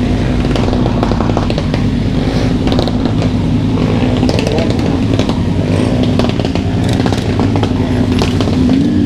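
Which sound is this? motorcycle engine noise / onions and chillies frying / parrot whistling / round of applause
motorcycle engine noise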